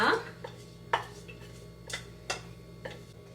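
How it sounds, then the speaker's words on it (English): Red quinoa being mixed into baby broccoli, corn and onions in a bowl, a handful of light spoon clinks and taps spaced about a second apart, close and soft against quiet background. "Now what you want to do is mix the two."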